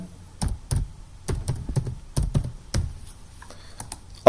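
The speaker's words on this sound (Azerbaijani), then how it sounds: "Parol yazıram." A password is typed on a computer keyboard, giving a run of crisp, close key clicks in an uneven rhythm with brief pauses and a firm thunk at the end.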